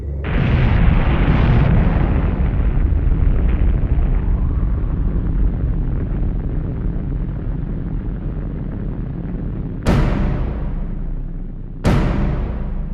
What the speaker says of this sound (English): On July 25th, the second bomb, Baker, is set 90 feet below the waterline. The resulting explosion proves devastating.